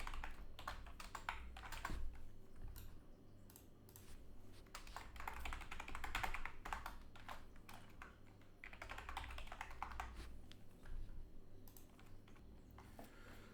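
Computer keyboard keys clatter in rapid, uneven bursts while someone types code for a shooting game; steady close-up typing runs throughout with no talking.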